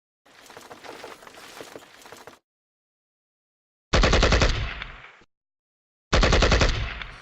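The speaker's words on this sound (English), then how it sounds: "We have to lay an artillery barrage." Gunfire from an artillery barrage in a war video game, set in a China–Vietnam conflict, comes in three loud separated bursts: a rattling volley, then two heavy booming blasts with decaying tails and silence between them.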